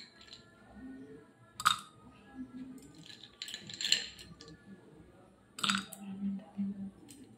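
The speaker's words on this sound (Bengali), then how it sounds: "এবারে কিছু আইস কিউব দিয়ে দিচ্ছি।" Ice cubes dropped into a glass for aam panna, a green mango drink, giving a few sharp clinks and rattles at separate moments, with quiet kitchen handling between them.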